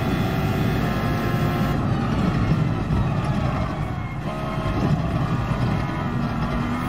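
A car engine in a racing video game drones loudly and continuously, a steady mechanical hum with only a slight dip partway through and no distinct downshift changes.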